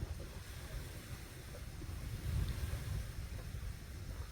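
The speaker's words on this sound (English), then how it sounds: "the wind's just too much here." Strong outdoor wind at an event in Columbus, a steady low roar of gusts buffeting the microphone, loudest midway, with no voices.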